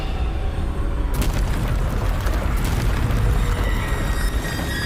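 A Bombarda spell explosion in the Hogwarts Legacy video game, one sudden loud booming blast that breaks into a dense, rumbling roar and keeps going for several seconds, with no talk.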